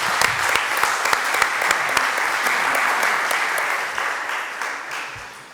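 Audience applause at a juvenile justice seminar in Concepción, loud and dense with sharp individual claps, holding steady for several seconds before slowly tapering off.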